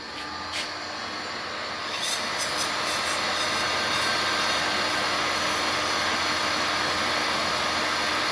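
A DLP video projector used in brain research runs with a steady, airy fan whoosh and the fine whine of its spinning color wheel. The sound holds constant and fairly loud, and a few faint clicks come near the start.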